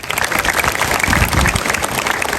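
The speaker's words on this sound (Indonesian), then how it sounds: "Sekali lagi tepuk tangan." A hall full of students at MAN 3 Majalengka, an Islamic senior high school in Indonesia, breaks into loud, close applause, a thick continuous burst of many hands clapping for a couple of seconds.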